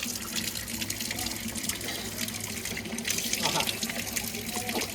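Cold water runs steadily from a granite spout carved like a cow's head, a continuous splashing gush close by, with faint voices in the background.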